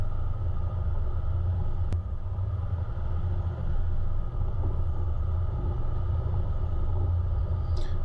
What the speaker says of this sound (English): You can probably hear the engine there working pretty steadily.